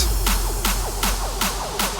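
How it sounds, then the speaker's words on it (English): A punchy electronic drum loop in Ableton repeats a steady four-beat pattern: a deep house kick under bright crash, clap and snare hits, loud and close. "crash, clap, snare, and the house kick."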